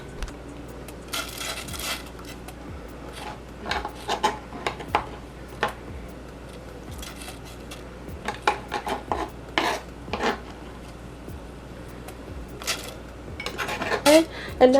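Ingredients tipped into a cooking pot with metal utensils clinking and scraping against it in scattered bursts, close and fairly clear, with a louder clatter at the end.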